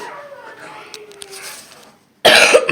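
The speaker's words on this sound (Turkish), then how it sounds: "evet öksürme durumu hala var" A person gives a burst of harsh, close coughing at the end of the clip, after a stretch of low indoor murmur and a brief pause.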